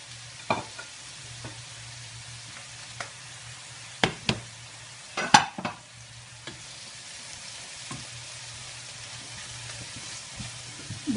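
Green and red peppers fry gently in oil for a sofrito, giving a low, steady sizzle with scattered utensil knocks and scrapes against the pan.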